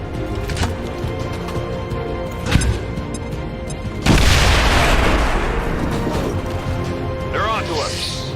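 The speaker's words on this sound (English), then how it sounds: "Grenade out!" A grenade explodes in the video game XCOM 2, a sudden loud boom that rolls into a long rumbling decay after a few seconds of background battle ambience and a brief thump.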